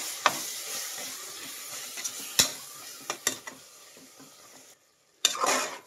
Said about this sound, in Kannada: ಮೊಸರು ಹಾಕಿದ್ಮೇಲೆ